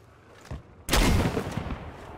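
Heavy cannon blast in Battlefield V's Pacific Storm map, a sudden loud boom landing midway and rolling on in a long rumbling roar, preceded by a fainter distant shot.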